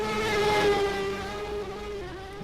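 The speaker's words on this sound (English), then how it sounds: "You hear that exhaust popping." A race car at Daytona drones past with a steady, tonal engine note from a single sustained pass, its pitch sliding slightly downward, and no voices over it.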